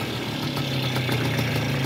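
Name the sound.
1980 Mars Super Luxus moped engine idling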